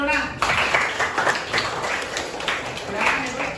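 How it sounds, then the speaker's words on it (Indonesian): Students clapping together in a classroom, a lively burst of hand claps that starts abruptly after a brief pause and continues unevenly, close and moderately loud, with children's voices chattering underneath. "tepuk tangan dulu nak"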